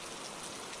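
Rain falls in an even, continuous hiss, soft and steady across the whole moment.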